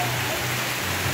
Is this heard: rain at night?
yes